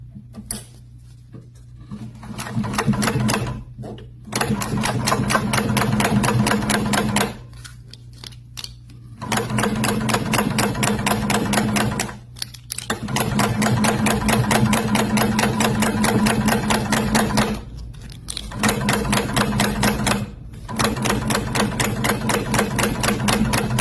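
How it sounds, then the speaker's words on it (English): Sewing machine stitching glove pieces together, running in long rapid bursts of loud mechanical clatter with brief pauses between runs, close and with no talk. "Let's get that sewn together."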